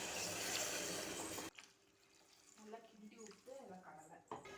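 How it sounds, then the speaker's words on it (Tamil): Rinse water from a washed mixer jar is poured into a pan of chickpea sundal masala, a short rushing splash that stops abruptly, followed by quieter kitchen sounds and a voice talking. "தண்ணிக்காக நான் இந்த மாதிரி மிக்ஸி ஜாரே வாஷ் பண்ணி சேர்த்துக்கிறேன்."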